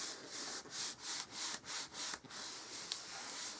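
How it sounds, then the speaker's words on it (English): A glued paper fold on a Stampin' Up book-fold box is rubbed down by hand: about seven brisk, rhythmic scraping strokes, close and fairly quiet, followed by a softer scuff. "Give it a good rub, make sure it's down properly."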